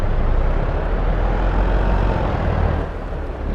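A truck engine in the Farming Simulator 22 video game runs with a loud, steady rumbling drone that fills the sound for several seconds, then eases slightly quieter near the end.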